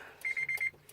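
A car's door-open warning chime on a Honda Element sounds as a quick run of four short, even electronic beeps, clear and close, with no voice over it.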